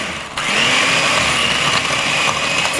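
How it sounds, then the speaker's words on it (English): An electric hand mixer starts up and churns crushed Oreos with cream cheese in a bowl, a loud, steady motor whine with grinding texture and no voices. "Now I'm gonna use my electric mixer."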